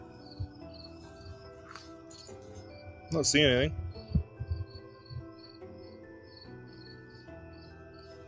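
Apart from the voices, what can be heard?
crickets chirping at night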